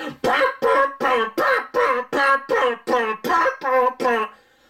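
A voice imitates a harsh synthesizer from an album with about eleven loud, gritty bursts. They come in a quick, steady, choppy rhythm.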